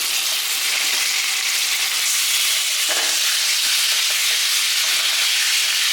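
Chicken goes into a pan of spiced masala and fries, producing a loud, steady close sizzle and hiss that carries on without talk.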